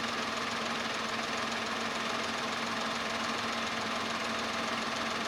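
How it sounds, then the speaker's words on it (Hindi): A Tata Tiago CNG AMT three-cylinder engine runs with a loud, steady droning hum and constant buzzing vibration, close and unbroken, with no one talking. "ये 3 सिलेंडर इंजन है इसलिए बहुत ज्यादा शिकायत नहीं कर सकते"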